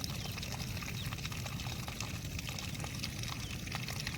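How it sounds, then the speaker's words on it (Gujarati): Diesel pours steadily into a container at a fuel stop, a continuous faint splashing, gurgling stream with no talk over it. "અને ડીઝલ નખાય છે."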